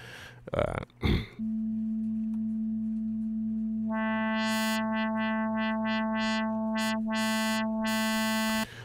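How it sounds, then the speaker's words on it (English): After a couple of brief throaty noises, a steady sine-like synthesizer tone from the Image-Line Harmor synth sounds alone and holds, its upper harmonics pulsing and sweeping in and out as the filter moves. "a fundamental tone, which sounds much like the sine wave that I just drew out right there"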